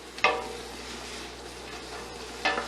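Chicken pieces sizzling in a pan for chicken cacciatore, a steady soft hiss with two brief scraping stirs at the start and end, fairly quiet and with no talking.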